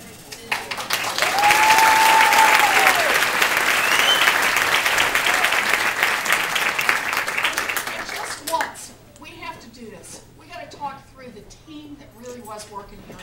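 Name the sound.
crowd applause at Elizabeth Warren speech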